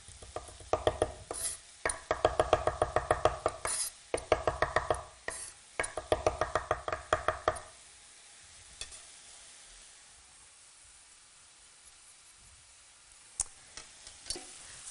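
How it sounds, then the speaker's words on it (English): Knife chopping ingredients for a vegetarian Thai green curry tofu dish on a board, rapid bursts of close, crisp strokes in quick rhythm for several seconds, then quiet with a few isolated taps. "just chop it down to small pieces"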